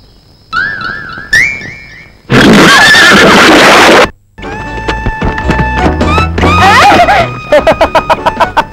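A horse neighs loudly in a shrill, whinnying call, alongside whistling and a burst of noise, followed by clattering sounds.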